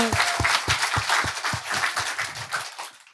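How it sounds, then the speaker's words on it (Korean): Clapping from a Sunday school service audience, about a dozen loud, evenly spaced claps in a steady rhythm that thin out toward the end. "자, 우리 한번 기쁨의 박수를 드립시다."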